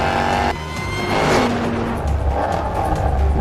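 A 600 hp 2018 Jaguar XE SV Project 8 accelerates hard, heard from inside. A loud engine roar climbs through the gears with a brief break at a shift, and a heavy low rumble sits underneath.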